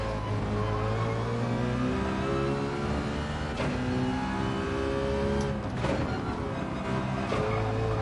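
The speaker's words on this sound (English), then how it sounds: "I'm hearing that Ferrari behind me now." A Ferrari engine roars close behind in a Gran Turismo 7 race at the Red Bull Ring, a loud sustained tone that rises and shifts pitch with revving and gear changes and continues steadily without speech.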